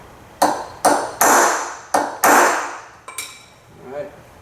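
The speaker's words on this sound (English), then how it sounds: "we're going to draw back and pop it a couple times with a hammer" A metal hammer strikes a staking tool to stake the grip bushing of a Colt 1911 pistol, about six sharp ringing blows at an uneven rhythm, each one decaying with a bright metallic ring, close and loud.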